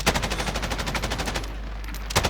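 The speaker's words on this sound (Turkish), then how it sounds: "Biri sıkıyor dağdan" Rapid automatic gunfire in a Call of Duty: Warzone match, coming from a mountain. A steady burst of fast shots fires for about a second and a half, followed by a short pause and one more shot.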